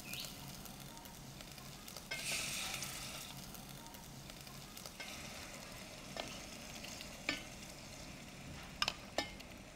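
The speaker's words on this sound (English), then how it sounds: "And then we put the rest of the coconut milk in." Coconut milk simmering in a pan with a little cumin and coriander powder for a Thai Massaman curry, a steady soft sizzle and bubbling with occasional stirring scrapes and small clicks of utensil against pan, close by and fairly quiet.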